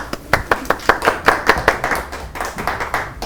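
A small studio audience on the Chupa Cana Show applauds, sparse individual hand claps in a quick, uneven rhythm, fairly close and moderately loud, with no voices over them.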